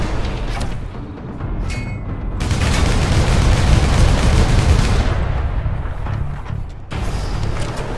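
Gunfire in a police shootout from the video game Call of Juarez: The Cartel, sustained rapid volleys and booming shots roaring loud for several seconds, easing briefly and then resuming.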